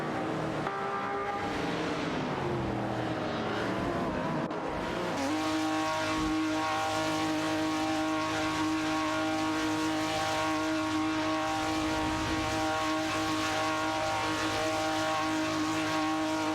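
Race cars, including a Ferrari 250, compete closely, with a sustained loud engine drone and tonal whine that rises after a few seconds and holds steady to the end.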